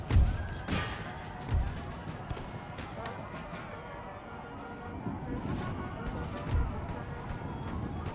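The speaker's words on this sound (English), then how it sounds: "Yep, here come the horse." Several dull hoof thuds land irregularly beneath steady game noise and a faint rumble, as cavalry horses gallop in the distance in Empire: Total War.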